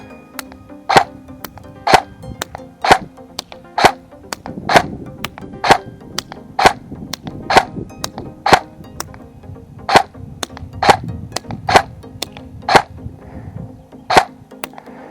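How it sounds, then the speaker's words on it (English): Double Eagle M904G airsoft gun fires about fifteen sharp, evenly spaced shots, roughly one a second, each a crisp snap over a low steady mechanical hum, with no talking. "Just going to try and put a few more shots down range."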